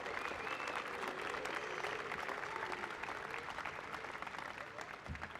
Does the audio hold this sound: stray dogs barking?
no